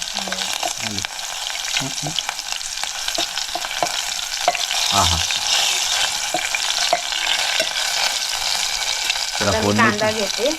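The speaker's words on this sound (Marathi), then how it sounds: "जिऱ्यानंतर छानपैकी लसूण टाकले मिरची अरे वा बरोबर कढीपत्ता असला तरी पण चाल ना हो. तेल बऱ्यापैकी चा तापलं" Garlic, green chilies and curry leaves, added after cumin, crackle loudly in hot oil with a dense, continuous sizzle and a few metallic clinks and stirring scrapes.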